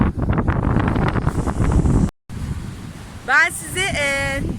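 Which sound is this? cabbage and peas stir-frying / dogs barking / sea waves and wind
sea waves and wind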